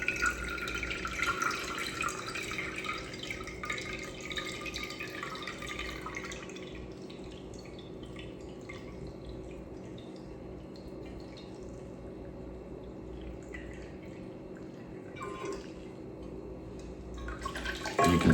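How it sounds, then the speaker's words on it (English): Water trickles and drips steadily from the holes of an orchid pot held over a kitchen sink, a soft continuous draining sound that thins out midway. "the nice thing with this pot with the holes is all the water is going to drain out and you're not going to overwater"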